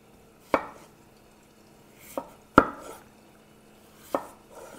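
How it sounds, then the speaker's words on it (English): A knife slices through a potato on a board in four separate, spaced cuts, each a crisp thud against near silence. "I'm just gonna slice this potato"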